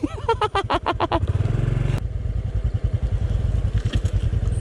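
A small Honda XRM motorcycle engine revs and chugs close by, a rapid pulsing putter that speeds up and settles into a steady rhythm.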